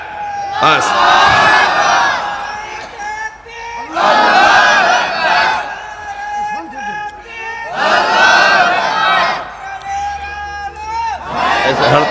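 A large crowd at a Bengali religious gathering roars a takbir response in unison, answering a single caller in repeated loud bursts about every four seconds, with a voice leading between the chants.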